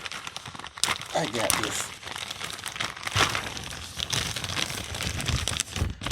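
A package of DTF transfers is torn open by hand, with crinkling plastic and sharp rips in bursts while a voice speaks briefly over it.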